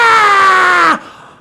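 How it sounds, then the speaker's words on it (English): A single sustained scream at high pitch, loud and harsh, holds for about a second and then cuts off abruptly, leaving a faint tail; it is presented as recorded insane asylum patients screaming. "It's just crazy people in a room screaming"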